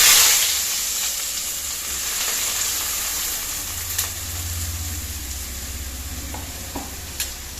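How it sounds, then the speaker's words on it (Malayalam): Chopped onions hit hot oil for a mackerel curry and give a loud, steady, close sizzle and hiss that fills the whole stretch, with a few stirring clinks near the end. "നമ്മൾ അരിഞ്ഞ് വെച്ചിരിക്കുന്ന സവോള ഇട്ട് കൊടുക്കാം."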